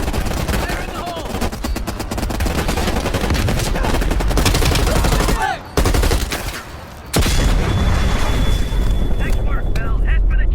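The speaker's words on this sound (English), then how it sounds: "Plant your C4, blow that thing to shit." C4 charges detonate amid sustained machine-gun fire in Call of Duty Black Ops Cold War, with dense rapid bursts, a sharp break and a heavy blast, loud and close throughout.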